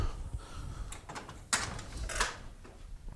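A house door is opened to let a dog out, making a couple of close clicks and clunks from the latch and handle over quiet room tone.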